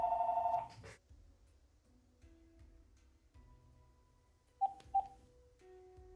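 Telephone tones in the video game Diluvian Winds: a loud, steady ringing burst at the start, then faint tones and a quiet line, and two short sharp beeps near the end, with no talk.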